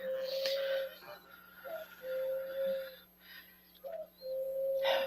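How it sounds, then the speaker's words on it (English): Birds coo and sing close by, with sustained tonal coos and calls repeating in phrases separated by short pauses, and no speech over them. "this is when all my birds start crooning and sharing their frequencies."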